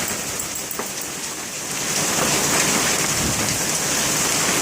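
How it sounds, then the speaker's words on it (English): Hail pounding down during a storm in south Florida, a dense, loud, continuous rattling hiss of ice striking surfaces that swells stronger midway and stays steady, with no voices. "I hate hail."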